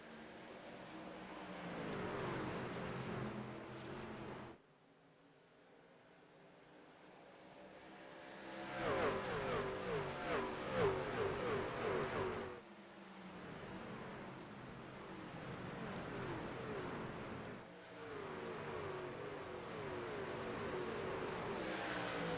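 Race cars roar and accelerate after the green flag at Iowa Speedway, a sustained loud engine drone that drops out briefly, then swells again with passing cars and shifting revs.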